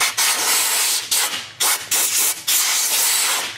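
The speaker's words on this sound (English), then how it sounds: "I'm going to go around it with a blowgun" Short, loud bursts of compressed air from a blowgun hiss around a 2018 Chevrolet Silverado 8-speed transmission pan, in about five separate blasts with brief gaps between.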